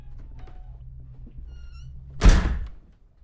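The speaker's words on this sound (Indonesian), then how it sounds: "pintu kamar mandi menutup sendiri." A bathroom door below deck on a boat swings shut by itself with a single heavy thunk, loud and close, after a stretch of quiet low rumble.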